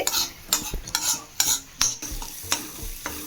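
A spoon scrapes and stirs through thick drumstick thokku chutney in a pan, with rhythmic strokes and a faint sizzle underneath.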